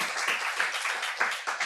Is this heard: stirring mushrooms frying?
no